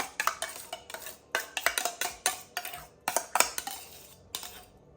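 Chicken salad is tossed in a slightly too small bowl, a spoon repeatedly clinking and scraping against the sides in quick, uneven rhythmic strokes, close and fairly soft with no talk.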